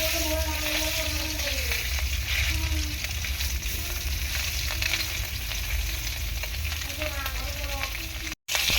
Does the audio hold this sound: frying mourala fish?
yes